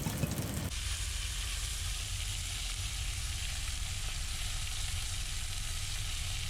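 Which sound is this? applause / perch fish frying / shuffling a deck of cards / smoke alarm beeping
perch fish frying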